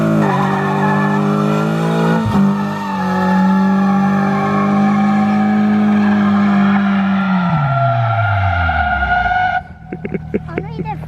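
Mitsubishi Eclipse spinning a single tire in a burnout, a loud sustained engine drone with tire squeal that holds steady then drops away near the end, leaving quieter background sounds.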